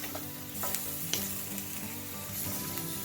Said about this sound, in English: add the vegetables. And this is how easy this is. Give her a stir fry.